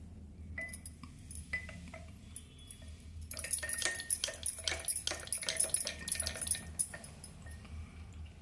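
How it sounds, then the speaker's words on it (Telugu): Buttermilk sloshing and splashing in a vessel, with rapid clinks and knocks as it is whisked vigorously, soft at first and then busier. "అన్నీ వేసిన తర్వాత మళ్ళీ ఒకసారి బాగా చిలకాలి"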